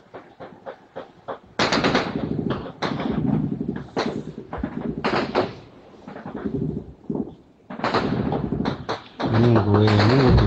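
Gunfire in eastern Congo, bursts of sharp rapid shots and heavy thuds coming in irregular volleys, loud and harsh with short gaps between clusters.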